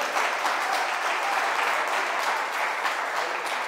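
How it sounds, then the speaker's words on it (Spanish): A church congregation claps in praise, dense steady applause from many hands filling the room at even loudness throughout. "Dele palmas de alabanza al Señor."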